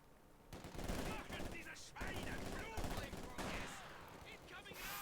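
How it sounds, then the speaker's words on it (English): Bursts of PPSh submachine gun fire rattle almost continuously through a Company of Heroes 2 battle, with several rapid volleys in a row and dense overlapping gunfire. "Just like the sound of PPSHs thundering away has been a constant feature over the last minute or so of play"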